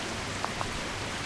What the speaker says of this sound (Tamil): ரேஸ் ட்ராக்கில் மழை பெய்யுதுங்க.